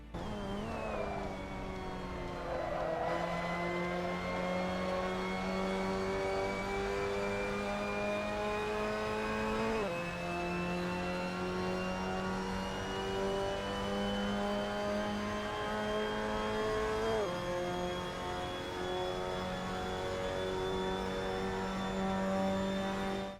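Mazda MX-5 Cup race car in Assetto Corsa at Okayama, its engine droning steadily and loudly throughout, with rising pitch sweeps and sharp drops at gear shifts as it brakes and downshifts toward the hairpin.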